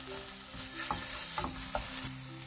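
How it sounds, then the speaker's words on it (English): Ginger garlic and green chili paste frying in a pan, with a steady sizzle under repeated stirring scrapes of a spatula, close and moderately loud, no voices. "We'll add ginger garlic paste to this. Fry till the rawness goes."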